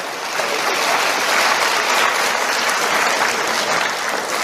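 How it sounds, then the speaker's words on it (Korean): Students clap together in a crowded university lecture hall, producing dense, loud, sustained applause that holds evenly throughout with no talking. "서로 박수 한번 치고"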